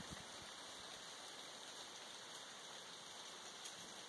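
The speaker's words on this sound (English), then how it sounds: "Hopefully you can hear that noise. It sounds like rain. That's all the leaves falling." Leaves falling in a forest while hiking in Uwharrie, North Carolina, a faint, steady hiss of pattering like light rain, even and unbroken throughout.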